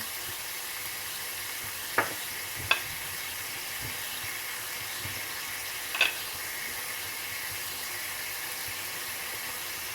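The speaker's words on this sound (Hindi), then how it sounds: "अब मैं इसके अंदर शामिल करूँगी ब्राउन की हुई प्याज, तमाम मसाले ऐड कर दूँगी।" Browned onions and spices go into a cooking pot with meat, making a soft steady sizzle broken by a few faint clinks and stirring knocks, with no talking.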